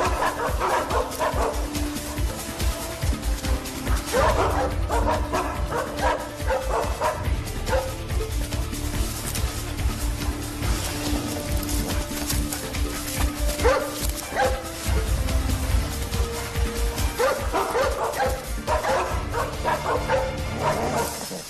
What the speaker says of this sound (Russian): Искать? Давайте, собачки,